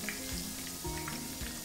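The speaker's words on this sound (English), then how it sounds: "And I will now be frying our chicken pieces." Floured chicken pieces frying in oil, a steady close sizzle with soft bubbling and a few faint stirring knocks, no voices.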